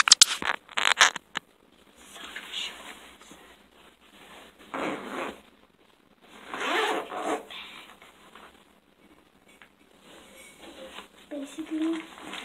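A zipper on a bag of hair-styling tools is pulled open in a few short rasping runs, close and fairly loud, followed by softer rustling and handling as items are moved about in a kitchen.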